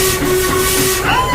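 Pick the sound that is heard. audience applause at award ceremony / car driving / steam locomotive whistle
steam locomotive whistle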